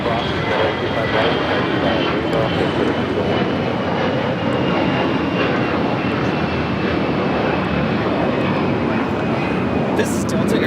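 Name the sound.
Delta Airlines A321 jet taking off at LAX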